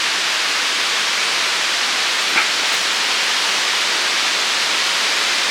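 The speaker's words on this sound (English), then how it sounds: "you can probably hear the waterfall off to the edge here." Steady broadband rush of a waterfall beside a Buddhist temple (wat) on a hillside above Chiang Mai, Thailand, a constant loud hiss with no breaks and no voices.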